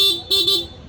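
Two short honks from the stock horn of a Senlo M1 Plus motorcycle, a thin nasal beep, the second slightly longer, close and loud.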